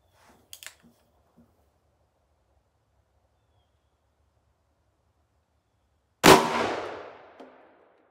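A single loud, close gunshot from a Smith & Wesson 2.75-inch .44 Magnum combat magnum revolver firing a Barnes 225-grain XPB bullet. It cracks sharply and decays over about a second after a few faint clicks and handling noises.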